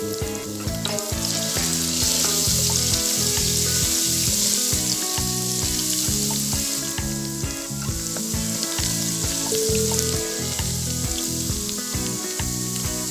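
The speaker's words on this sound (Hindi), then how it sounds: "लहसुन भी हम ऑयल में डाल देंगे।" Garlic and cumin sizzle steadily in hot oil in a home kitchen, a loud continuous frying hiss with scattered crackles and stirring clatter close by, with no talk.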